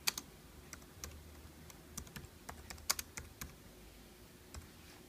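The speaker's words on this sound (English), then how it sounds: "I'm going to type in his name." Fingers type on a computer keyboard in quick, irregular bursts of close, crisp key clicks with short gaps between them.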